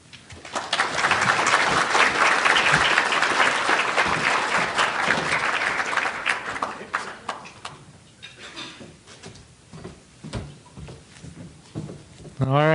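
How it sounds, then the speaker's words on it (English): Loud, dense audience applause at a graduation ceremony honoring Native American graduating seniors swells for several seconds, then thins into scattered claps as a voice begins speaking. "let's give Dana another big round of applause and a big aho."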